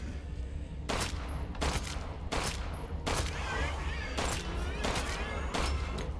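Repeated bursts of gunfire in Resident Evil 8's Shadows of Rose, several sharp rapid volleys spaced a second or so apart, loud and close, with a faint game creature sound between shots.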